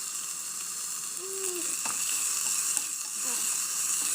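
Garlic sizzles in hot oil in a pan for okra soup (bamya), a close, steady hiss with a few faint clinks and stirring sounds, and no talking.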